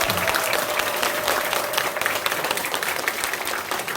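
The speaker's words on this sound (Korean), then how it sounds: "박수 한번 쳐주시기 바랍니다." Audience applause at a church seminar, dense sustained clapping from a crowded hall filling the whole stretch without a break.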